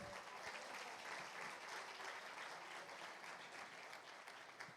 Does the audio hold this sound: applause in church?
yes